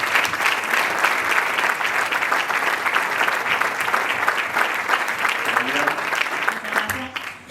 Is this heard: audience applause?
yes